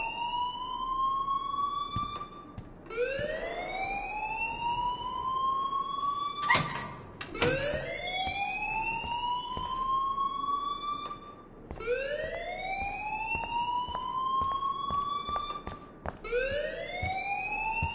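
A rising, repeating electronic alarm from the video game Life is Strange wails in a steady cycle of upward sweeps, loud and continuous, with a brief clattering burst partway through and no voices.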